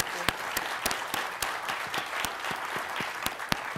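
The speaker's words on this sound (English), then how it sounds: "if I might ask the audience to acknowledge that with a round of applause" An audience at a Graduate School USA session gives a round of applause, with fairly quiet, steady clapping and crisp individual claps throughout.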